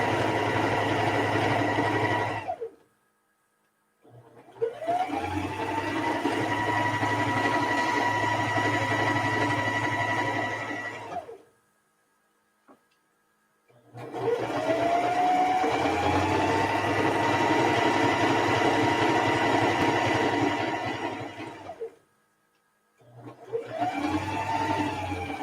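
A sewing machine runs in long continuous bursts while quilt blocks are chain pieced, each bursting run several seconds long with a steady motor hum, separated by brief pauses; no talking.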